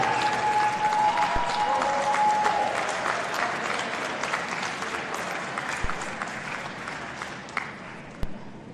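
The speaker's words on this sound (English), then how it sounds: "say thank you and applaud the love and support that made this day possible" Sustained, dense applause from a large commencement audience at a Quincy University ceremony in December, honoring graduates' family and friends. The clapping stays steady throughout at moderate distance, with no one speaking.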